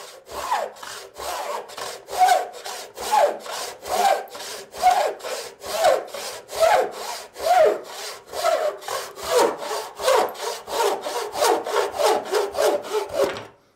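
A hand saw cuts wood for a half-lap joint with steady, rhythmic back-and-forth rasping strokes, close and loud, each stroke rising and falling in a regular pulse for the whole stretch.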